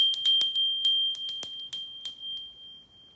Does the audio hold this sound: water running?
no